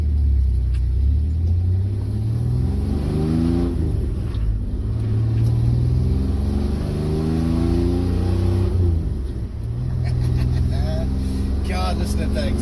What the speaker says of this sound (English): God, listen to that exhaust.